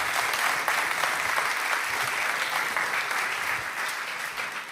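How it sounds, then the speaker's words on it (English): A large youth summit audience in Brussels applauds to welcome NATO Secretary General Jens Stoltenberg to the stage, a steady, dense roar of clapping that holds for several seconds with no talk over it. "let's give a round of applause to welcome NATO Secretary General Jens Stoltenberg to the stage"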